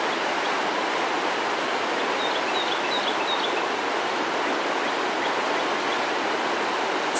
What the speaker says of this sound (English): already the river's gone down and some of the roads have reopened, but it is still raging